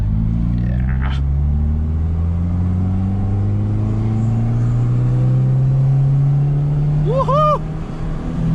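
A 2006 Proton Savvy 1.2L with a manual gearbox driving along: a steady, loud engine drone and road rumble whose pitch rises slowly as the car gathers speed, with a brief higher squeak near the end.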